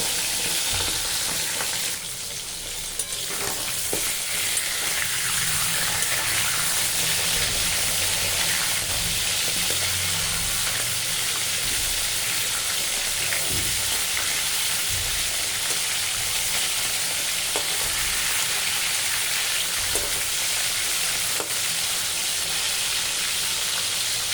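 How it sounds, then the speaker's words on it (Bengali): Fish heads fry in hot oil for a mung dal muri ghonto, giving a loud, continuous sizzle and crackle that runs unbroken with no voices over it. "তেল গরম হয়ে গেছে এবার মাছের মাথাগুলো দিয়ে দেব এবার কড়া করে আমি মাছের বাড়িটা ভেজে নেব"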